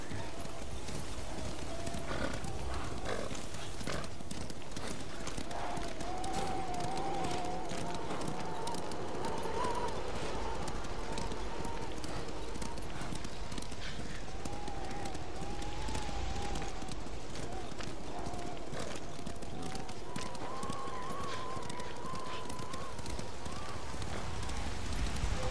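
Horse hooves gallop in the video game Ghost of Tsushima, a steady rolling clip-clop running throughout at moderate loudness beneath music and ambient sound, with occasional voices.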